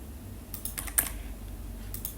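Computer keyboard keys tapped for shortcuts while modeling in Blender, a few sparse, close clicks spread over a couple of seconds against a quiet room background.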